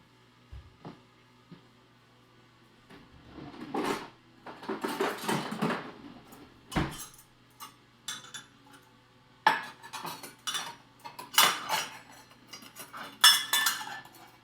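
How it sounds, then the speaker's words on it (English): Metal measuring cups clink and rattle while a cake is baked, close, sparse knocks and clatters that come in bursts with quiet gaps between them, and no speech. "These measuring cups are so loud. They're metal."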